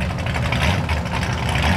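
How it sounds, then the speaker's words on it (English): A loud black 1968 Ford Mustang pulls up nearby, its engine a steady, heavy low rumble that holds constant throughout the short stretch with no talk over it. "a ridiculously loud black 68 Mustang pulls up towards our parking area"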